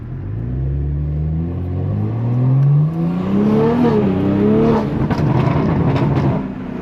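A modified, no-longer-stock BMW B58 inline-six rumbles at a steady low idle and then climbs through rising revs, heard up close and loud with no one speaking.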